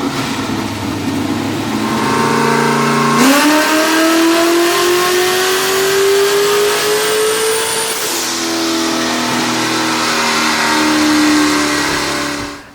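LS V8 engine on a dyno, run with loud steady roar at first, then revving up hard in a long rising pull before dropping back to a high, even drone; close and alone, no talk.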